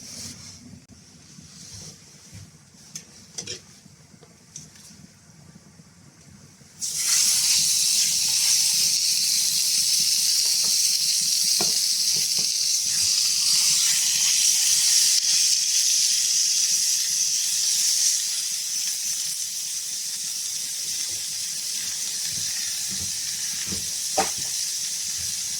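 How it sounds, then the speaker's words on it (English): Steak hits a hot pan in a cabin kitchen: after several quiet seconds of faint knocks and handling, a loud hissing sear starts abruptly and holds steady, easing slightly toward the end. "Nice and hot, sear it and then flip it over."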